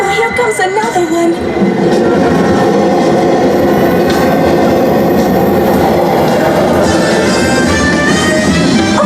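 A subway train rumbles past beneath a street grate, loud and close, its continuous roar and rattling wheels sustained without a break.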